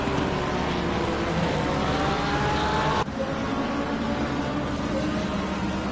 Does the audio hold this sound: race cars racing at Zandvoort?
yes